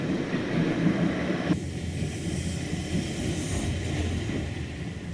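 A 1951 saddle tank steam locomotive built for the Steel Company of Wales runs on rail track near Windermere, giving a steady, fairly loud rumble that shifts in tone partway through, with no talking.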